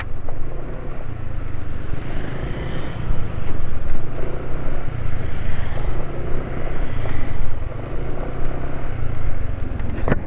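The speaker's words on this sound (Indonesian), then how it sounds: "Nah sekarang suara mesin halus ya." A motorbike engine idles steadily and smoothly after an oil change to full synthetic 5W oil with an oil treatment additive, a close, continuous rumble with no talking.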